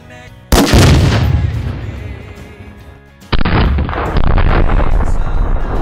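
A Tannerite charge blows up a guitar alongside AR-15 rifle fire outdoors: a sudden loud blast with a long rumbling decay, followed a few seconds later by another heavy burst of shots and booms.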